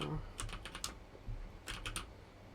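Quiet clicking from a computer keyboard picked up by a nearby microphone, two short flurries of rapid keystrokes with a pause between them.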